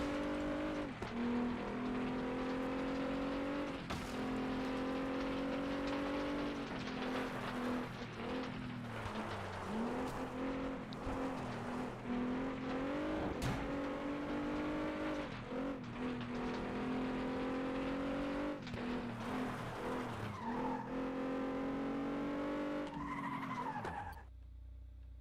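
Race car engines in Flatout 2, revving and droning loudly with shifting pitch, gear changes and occasional skids and crashes, continuous throughout the race.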